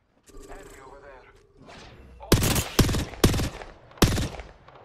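Rapid bursts of gunfire in the Apex Legends battle royale game, four loud, sharp shots spaced about half a second apart, following a stretch of quieter game sounds and effects at the start.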